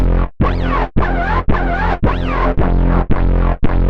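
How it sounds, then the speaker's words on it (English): Synthesizer notes using pulse width modulation and oscillator sync in Ableton Live, with a buzzy, sweeping timbre, played as roughly half-second repeated chords with a moving, filtered tone, loud and close. "Classic uses pulse width modulation and sync"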